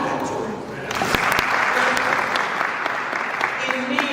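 Applause from an audience at a women's health symposium rises as a broad wash of clapping, mixed with some voices and occasional sharper claps, staying fairly loud throughout.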